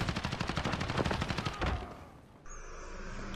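A teammate's automatic weapon in Call of Duty: Modern Warfare fires a long, loud, rapid burst of evenly spaced shots, then cuts off into a decaying rumble and a thin high whine.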